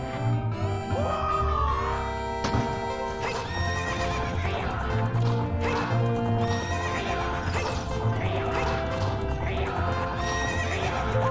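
Horse neighing and whinnying in a Zelda game, with clip-clop hoofbeats of galloping over a dense, loud musical score, no voices.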